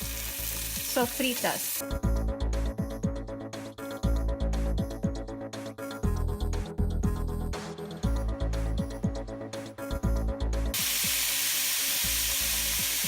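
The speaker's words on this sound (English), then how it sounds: "And now let's crumble our tofu, and we're just gonna break it up." Crumbled tofu being broken up in a hot pan for vegan chipotle taquito filling, frying with a steady close sizzle and repeated scraping stirs, with a dense hiss filling the last stretch.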